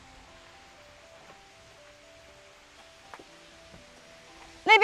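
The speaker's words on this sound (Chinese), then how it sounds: "那边有一条瀑布，" A small mountain waterfall in Sichuan, running low after dry days, gives a steady, faint, distant rush of falling water that continues throughout, with a brief louder burst at the very end.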